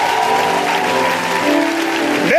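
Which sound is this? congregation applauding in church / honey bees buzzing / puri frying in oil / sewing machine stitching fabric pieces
congregation applauding in church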